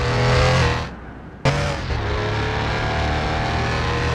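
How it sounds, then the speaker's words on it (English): Engine of a Porsche 964 RS America in Car Mechanic Simulator 2021 revving loudly and steadily, dipping briefly as the throttle lifts, then snapping back into a sustained high-pitched drone as it pulls through the gears. "it's got a little bit of the Porsche sound"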